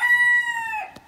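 A rooster's drawn-out crow rings out close and loud, holding a bright, steady tone before it breaks off at the end of the call.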